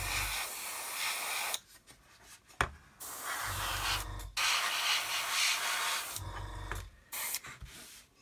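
Aerosol spray paint hissing onto the pylons of a model aircraft kit, in several bursts of steady hiss separated by short pauses, close and fairly loud, with faint handling noises between bursts.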